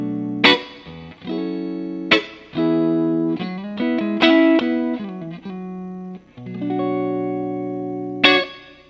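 Electric guitar played through a Marshall Silver Jubilee amp on a clean setting with the pedal off, sounding as strummed chords and short melodic phrases with sustained ringing notes and brief gaps, loud and alone.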